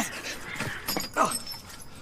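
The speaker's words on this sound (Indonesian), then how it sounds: "gelasnya terjatuh dan pecah" A drinking glass drops and shatters indoors in a film scene, giving a short sharp break near the one-second mark and a second crash after it, then falling quiet, with no voices.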